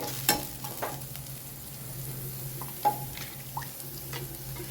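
Crushed onions and curry leaves fry in a pan for horse gram rasam, giving a soft steady sizzle broken by a few scraping stirs and light clicks, quiet and close, with no talk.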